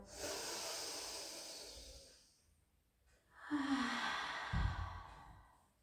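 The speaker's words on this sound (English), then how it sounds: "Take some lovely deep breaths in and out." Deep breathing during a gentle pilates rehab class: a long, airy exhale, a quiet pause, then another full breath in and out. The breaths are close and soft, with no talking.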